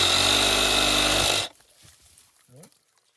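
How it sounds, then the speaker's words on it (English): A handsaw or power saw cuts through a glued PVC tee fitting on a buried check valve line, a loud steady rasping burst for about a second and a half that stops abruptly, followed by quiet handling noises and a brief voice. "now I'm going to cut this T off as high as possible"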